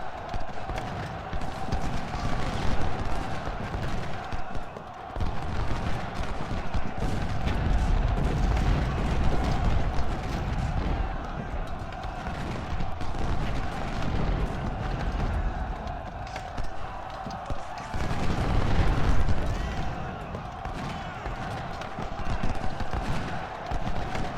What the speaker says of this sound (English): Very good close range volley